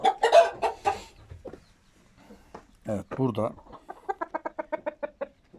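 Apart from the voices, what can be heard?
chickens clucking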